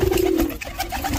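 Pigeon cooing at close range from a domestic loft pigeon just returned home, a low steady coo running under faint background noise.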